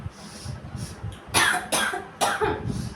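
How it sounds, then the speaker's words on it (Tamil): After sniffing snuff, a person lets out three or four harsh, close coughs in quick succession, preceded by soft breathy sounds. "தும்மல் வரும் பார்த்தா இருமல் வருது."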